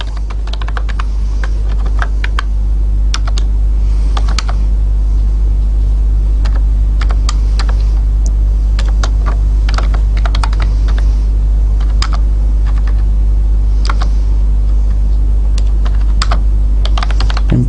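Typing on a computer keyboard while writing C code for an employee database program: steady, close clicking keystrokes in irregular bursts over a low constant hum, with no voices.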